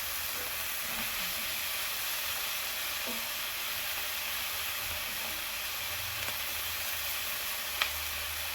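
Carrots frying and caramelizing in a pan for meat lumpia, a steady soft sizzle and hiss running throughout, with occasional faint clicks and a small tap near the end.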